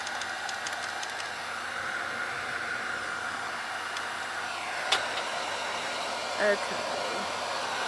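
A hair dryer running steadily and close by while drying a craft piece, a constant loud whooshing roar for the whole stretch, with a brief spoken word and a couple of small clicks near the end.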